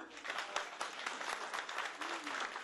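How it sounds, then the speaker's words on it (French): Audience applause at a French stage show, many hands clapping in a dense, lively patter that runs throughout at a soft, distant level. "Merci Alexandra, on applaudit très fort."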